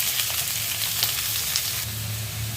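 Chopped onions frying in oil toward golden brown for Delhi-style rajma, a dense continuous sizzle close by with faint stirring scrapes, no talking.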